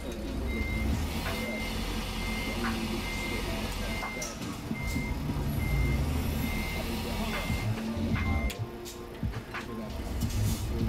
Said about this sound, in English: So we're going to get this truck backed out here.